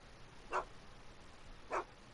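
Einstein, Doc's dog in the Back to the Future video game, gives two short, soft barks about a second apart against a quiet background.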